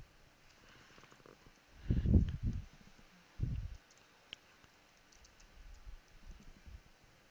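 Computer keyboard typing, a few clustered bursts of keystrokes with soft taps between, close and fairly quiet, no talking.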